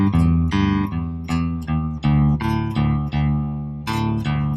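Guitar slowly playing a riff, a sequence of about ten distinct, sustained picked notes in an even, unhurried rhythm, close and clear with no talking.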